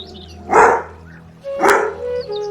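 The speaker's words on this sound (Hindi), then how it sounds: "अचानक कर्नल साहब का अल्सेशियन कुत्ता जोर जोर से भौंकने लगा।" A large Alsatian dog barks loudly twice, deep booming woofs close by, separated by about a second, with faint background noise between.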